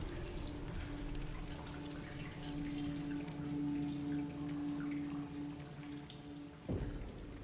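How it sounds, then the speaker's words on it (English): Steady trickling rain in the video game Silent Hill 2 Remake, with a constant watery hiss and a low hum beneath, continuous and even, ending in a brief rumbling shift. "the trickling of the rain is making the controller slightly vibrate"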